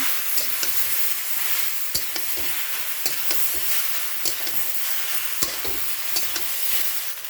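Food being stirred and sautéed in a pan, a constant sizzle punctuated by frequent quick clicks and scrapes of the spatula, close and busy for several seconds with no talking.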